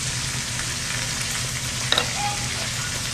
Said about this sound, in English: I want you to see the frying up.